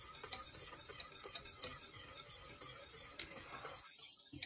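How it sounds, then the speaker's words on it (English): A wire whisk stirs a melted cheese base in a pot for four-cheese mac and cheese, producing soft continuous scraping and light ticks against the metal, with a faint sizzle underneath that drops away near the end. "I switched to my wire whisk so I can make sure that everything gets nice and blended together"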